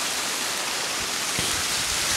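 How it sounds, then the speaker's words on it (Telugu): Steady hiss of falling water at the Darimalli waterfall, an even, moderately loud rush with a soft thump partway through. "అదే కొత్త వాటర్ ఫాల్ కనిపెట్టాను"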